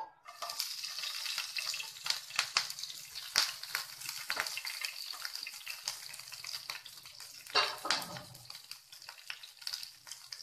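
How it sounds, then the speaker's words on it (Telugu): Green chillies sizzle and crackle steadily in hot oil in a pan for green chicken, with bursts of spattering and a few stirring scrapes, close and fairly loud with no talking. "ఇప్పుడు ఆయిల్ వేడెక్కింది అందులో ముందుగా మనము గ్రీన్ చిల్లీస్ వేసుకుందాము"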